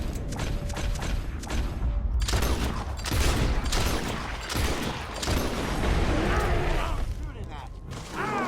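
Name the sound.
gunfire in the video game Red Dead Redemption 2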